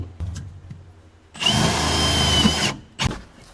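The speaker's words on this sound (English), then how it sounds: "run 2 new self-tappers right through the floor, just like Ford did" A power drill drives self-tapping screws through the steel floor of a 1966 Ford Thunderbird, one loud, close, sustained whirring burst of about a second, framed by brief clicks and handling knocks.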